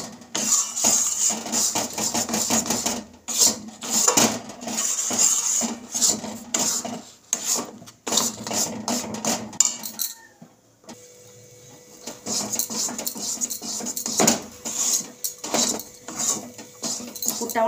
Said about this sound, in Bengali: এভাবে অনবরত নাড়তে থাকবো, না হলে তলায় পুরটা ধরে যাবে।